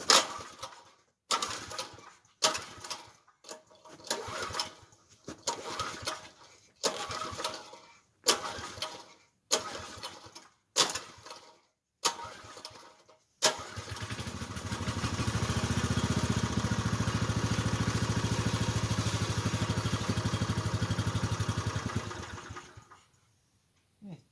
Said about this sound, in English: I'm going to attempt to see if it'll try to start.